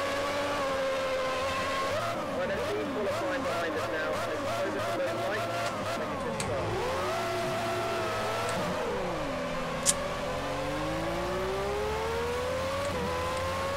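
Race car engine revving and skidding in the Project Cars racing video game, a loud whining engine sweeping up and down with gear shifts and tire screech, steady and close throughout.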